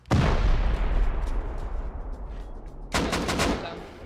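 Gunfire in the survival game Rust, a sharp loud burst opening the clip and decaying into a rumbling wash, followed by a second cluster of rapid shots near the end, with no speech over it.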